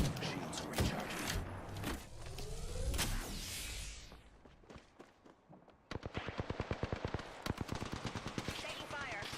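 Rapid automatic gunfire in a first-person shooter game, with dense bursts early, a brief lull, then a steady rattling run of evenly spaced shots; game voice lines and speech mixed in.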